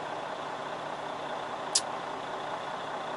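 Steady, even road drone of a truck being driven at night, heard from the cab, with one brief sharp click partway through and no voices.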